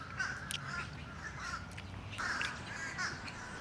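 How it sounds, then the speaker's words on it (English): A crow caws several times outdoors near a food spot in Hawaii, with harsh repeated calls spaced across a few seconds over steady ambient noise. "there's another crow right over there"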